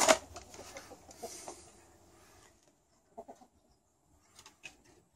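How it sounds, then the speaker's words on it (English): Chickens cluck softly in short scattered bursts near a hoop house, with a louder rustle at the start and quiet gaps between the calls. "Chickies!"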